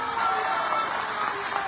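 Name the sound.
audience applause at a rally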